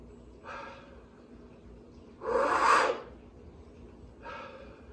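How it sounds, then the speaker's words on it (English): A breathing technique with a tall vowel shape pushes a rush of air, heard as three breathy bursts, the middle one loud and long and the outer two fainter. "That distinctive sound is created by the rush of air."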